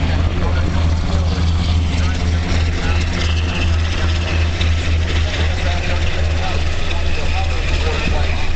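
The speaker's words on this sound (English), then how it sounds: "he's actually hover taxiing" A UH-60 Black Hawk helicopter hover taxiing at an air national guard open house and airshow, a steady low throbbing rotor and engine drone that holds without pause, with a commentator talking over it.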